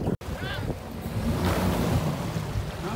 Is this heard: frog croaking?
no